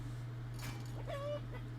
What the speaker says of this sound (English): Get a chicken,